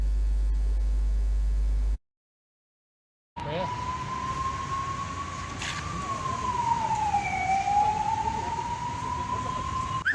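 An ambulance siren, launched for public use by the Rachakonda police, wails loudly and steadily with a rising and falling tone. It follows a short silent gap, with a dense background underneath.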